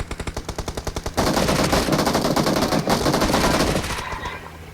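Automatic gunfire in a first-person shooter game: a rapid rhythmic burst of separate shots, then a dense, loud sustained volley that tails off near the end, with no voices.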